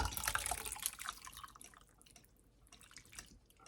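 Fruit liquid drips through a strainer into a bowl, a quiet patter of small splashes and trickling that is busiest at the start and thins out toward the end.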